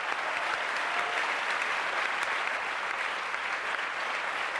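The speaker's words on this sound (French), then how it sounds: "applaudissements de la foule de cette fois-ci" Applause from a studio audience on a French television variety show, a dense, steady wash of clapping held at an even level throughout, with no voices over it.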